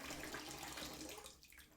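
Hot water from a kettle pours into a bathroom sink before a wet shave, a steady close splashing rush that eases slightly near the end, with no talking.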